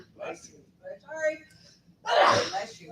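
A single loud, sharp sneeze bursts out after some brief murmured talk and breathy sounds.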